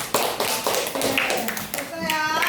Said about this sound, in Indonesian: Udah tepuk tangan semuanya.